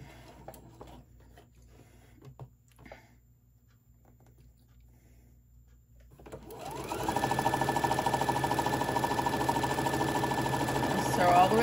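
A sewing machine back stitching a fabric Santa bag starts after a quiet, faintly rustling lead-in and then runs with a steady, loud, fast mechanical whir and needle chatter.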